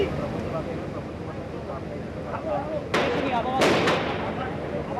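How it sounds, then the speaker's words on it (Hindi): A few sharp gunshots crack in the distance during the 2008 Mumbai terror attack, one or two close together, heard over ongoing background chatter and ambient noise. "यहाँ पर फिलहाल गोलियां चल रही हैं"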